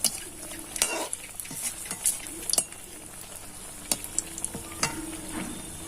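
A semolina snack with sesame fries in hot oil: a steady soft sizzle runs throughout, with scattered sharp pops and occasional stirring scrapes close by.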